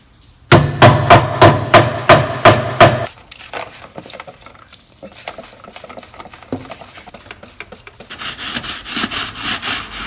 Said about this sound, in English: I'm just going to go ahead and hammer that all down